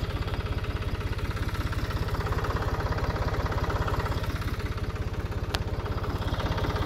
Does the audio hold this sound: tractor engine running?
yes